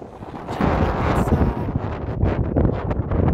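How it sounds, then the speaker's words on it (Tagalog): Outdoor wind gusting across the microphone on a walk near an apartment block and a primary school, a steady rumbling buffet that swells after the first half second and stays loud throughout, with no talking. "Mahangin siya."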